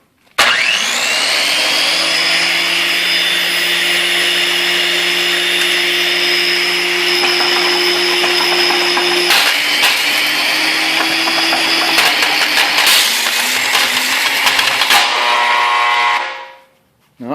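A homemade impact hammer mill driven by an angle grinder crushes gold ore with a loud, steady high-pitched motor whine. Rattling and knocking from the ore build up in the second half, and the sound winds down sharply at the end.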